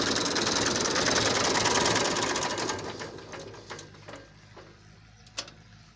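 Old 1987-model Massey Ferguson 240 tractor engine cranked on its self-starter, a loud dense mechanical clatter that runs steadily, then eases into a quieter idle with a few sharp knocks near the end.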